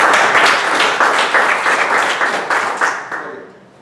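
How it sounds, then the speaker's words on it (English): A Toastmasters meeting audience gives a big round of applause for a speaker, dense and loud from the start, holding steady before thinning and fading out near the end. "Give him a big round of applause."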